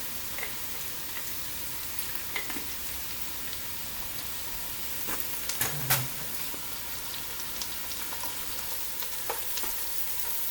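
Garlic and paprika sizzle steadily in a sauce pan, a soft continuous hiss with occasional small pops and one brief clink, quiet and even throughout.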